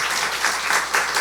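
A church congregation claps together, a loud dense burst of applause that swells and dips slightly over a second or so.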